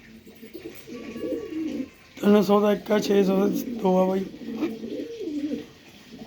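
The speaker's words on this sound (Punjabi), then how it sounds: "ਉੱਡਣ ਵਾਲੇ ਕਬੂਤਰ ਆ ਬਾਈ 300 ਰੁਪਏ ਦੇ ਹਿਸਾਬ ਨਾਲ ਦਿੱਤੇ ਜਾਣਗੇ" Flying pigeons for sale, fresh released and restless, coo in soft repeated throaty calls while someone talks loudly over them.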